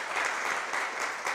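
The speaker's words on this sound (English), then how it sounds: "Round of applause." An audience applauds a contestant's introduction at a pitch contest, a dense, steady burst of clapping that fills the short moment from start to finish.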